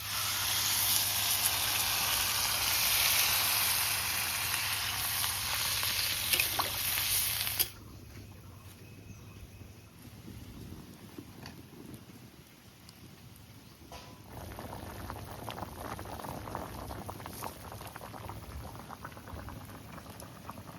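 Water goes into a jackfruit and shrimp curry: a loud broadband hiss first, then it drops to a softer, steady bubbling simmer that lasts, close by with faint background hum.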